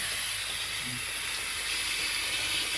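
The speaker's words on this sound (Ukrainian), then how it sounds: "А тут вариться суп в скороварці." A loud, steady hiss of steam escaping a pressure cooker cooking soup runs continuously and unchanging throughout.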